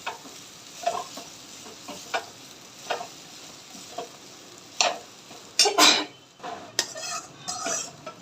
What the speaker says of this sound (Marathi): मीडियम फ्लेमवर छान असा ना भात परतून घ्यायचा आहे आपल्याला